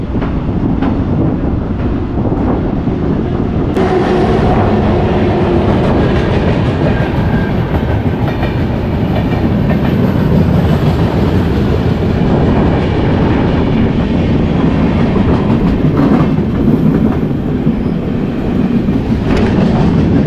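A train rumbles across one of Karnataka's longest railway bridges on the route toward Kerala, a loud continuous roar with rhythmic clickety-clack of wheels and wind buffeting the microphone throughout.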